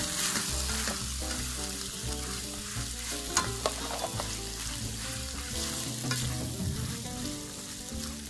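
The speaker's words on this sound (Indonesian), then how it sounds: "Makaroni yang udah direbus, bisa langsung kita masukin aja." Boiled macaroni frying and being stirred in a pan, a steady close sizzle with scraping and clinking of the utensil throughout, no talking.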